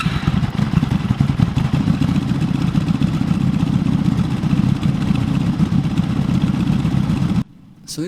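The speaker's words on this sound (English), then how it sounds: "You guys won't be able to hear me with this bike running" A motorcycle engine runs steadily during carburetor syncing, a loud, close, continuous rumbling idle with a fast mechanical clatter, cutting off abruptly near the end.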